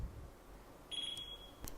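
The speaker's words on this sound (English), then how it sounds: "2 quick beeps means deselected" A Miele appliance sounds its deselect signal, a faint electronic beep tone in a quiet setting with a brief click following.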